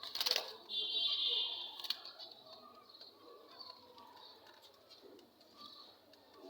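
A mother pigeon or dove cooing near her three newly hatched chicks on a small home bird farm, with a loud flutter of wings at the start and soft calls that continue afterwards.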